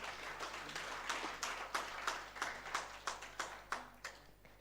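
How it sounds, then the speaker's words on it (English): Audience applause for awardees at a school leaders' honoring ceremony in Indore: a run of sharp, fairly loud clapping bursts with steady rhythmic peaks, heard alone with no talking. "Please make your applause really loud for each of the awardees."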